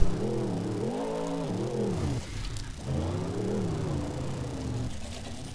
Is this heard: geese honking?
no